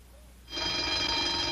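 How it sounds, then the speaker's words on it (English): A telephone bell inside a house starts ringing abruptly after a brief quiet moment, a loud, continuous metallic trill heard close and alone. "the phone's ringing in there"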